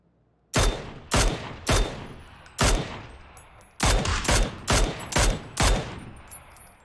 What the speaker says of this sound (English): My mate is already shooting at them on the high ground.